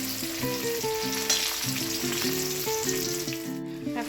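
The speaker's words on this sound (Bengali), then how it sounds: "বেগুন ভাজা করছি" Eggplant slices fry in a pan with a continuous, even sizzle at a fairly loud level, while a steady tune plays over it for the whole stretch.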